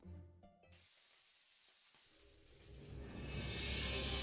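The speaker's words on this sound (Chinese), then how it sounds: "鱼片下锅，先跟热油来一场深度接触" Fish slices coated in egg-white batter hit hot oil, opening quietly and then building into a loud, steady sizzle and crackle of frying that grows toward the end with no talk.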